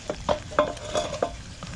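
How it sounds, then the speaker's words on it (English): The basket of a Chefman air fryer is pulled out by its handle, giving a quick series of close metallic clicks and scrapes as it slides free. "I'm going to pull the handle out."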